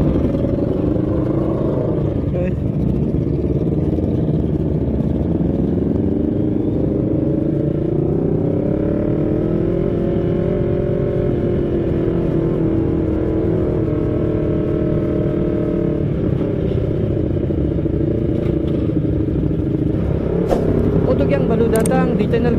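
Motorcycles, including big bikes such as an R1 and R6, rev and accelerate at full throttle on a Sunday group ride, a steady roaring engine drone rising and falling in pitch with voices talking over it.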